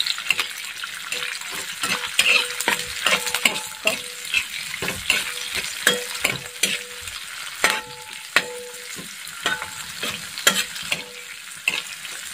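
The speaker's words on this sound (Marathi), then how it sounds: "हे 2 ते 3 मिनटं छान मिरची सुद्धा तळून घ्यायची." Green chillies, chopped with a few more added whole, fry in a pan for a spicy methi vegetable dish. A steady close sizzle runs throughout, broken by repeated stirring scrapes and clinks, with no talking.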